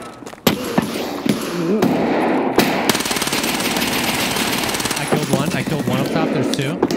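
Rapid gunfire from Escape from Tarkov firefight, loud bursts of automatic fire running almost continuously with sharp thumping shots, voices talking over it in places.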